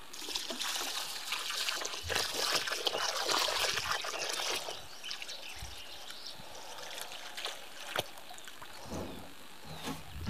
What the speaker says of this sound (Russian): заливать 3 ведрами воды